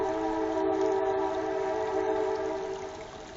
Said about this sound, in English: Do you hear the choo-choo train?